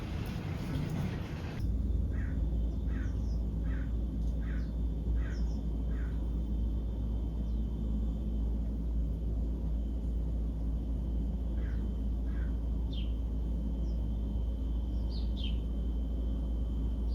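Birds calling around a garden fountain bird bath, a run of short evenly spaced chirps followed by scattered sharper calls, fairly faint over a steady low hum and splashing background.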